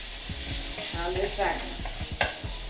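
Beef sausage and sauce cooking in a pan for a loaded alfredo: a close, steady sizzle with a rhythmic series of soft knocks and scrapes of stirring, and one sharper clink near the end.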